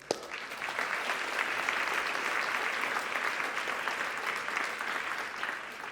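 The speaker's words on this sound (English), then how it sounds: "Round of applause for these guys." Steady applause from an audience for martial arts demonstrators at a university symposium on movement and mind, holding an even, fairly close level for about six seconds without letup.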